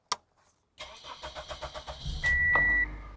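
A car engine cranks and starts after a short click, its rhythmic starter pulses giving way to a rough, shaking idle, with a brief electronic beep over the running engine.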